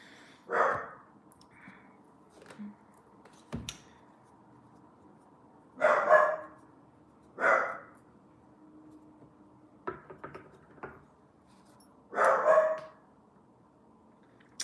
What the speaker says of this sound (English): he's barking ferociously at somebody walking outside